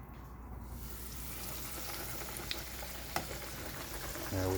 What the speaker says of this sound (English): Hopefully we hear that sizzle.